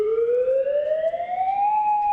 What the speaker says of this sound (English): Hawaii had become the first state in the nation to test its attack alert sirens.